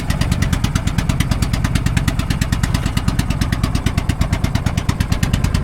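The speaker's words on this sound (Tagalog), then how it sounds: "Maluwag na makina niyan, no? Maluwag ang makina, nakalog." Up close, a motorcycle idles with a worn, loose engine, giving a fast, steady, loud chugging pulse with a metallic rattle riding on every beat and no talk.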